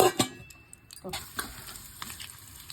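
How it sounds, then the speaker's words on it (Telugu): Green chillies tempering in hot oil, sizzling close up with sharp stirring clatter at the start and a steady crackle underneath. "పచ్చిమిరపకాయలు అవి తాలింపు."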